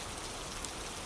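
Steady rain falling, a dense even hiss of drops with no break, soft and continuous throughout.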